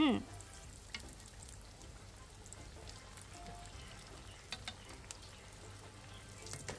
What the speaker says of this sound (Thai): จับไข่ที่ชุบแป้งแล้วลงไปทอดได้เลยค่ะ ทอดจนกระทั่งสุกกรอบดีทั้งชิ้น